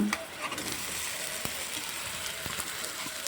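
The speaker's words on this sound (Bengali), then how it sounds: "এখন কিছুক্ষণ এটাকে ভেজে নেব ভালো করে" Chopped onion and capsicum frying in a pan for pasta, a steady close sizzle with faint crackles and a few light clicks from stirring, with no talking over it.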